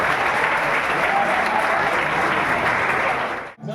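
Audience applause for film actors at R.K. University in Rajkot, a dense, steady burst of many clapping hands lasting several seconds before dropping off suddenly.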